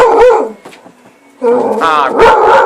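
A dog barks sharply at a rabbit nearby, a loud burst of barks, a brief pause with a soft whine, then another run of yips and barks close to the mic.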